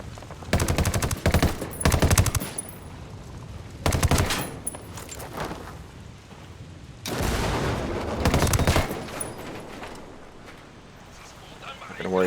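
Bursts of rapid gunfire ring out in the video game Ghost Recon Wildlands, several loud volleys spaced across the scene over rumbling game ambience, with voices talking in between.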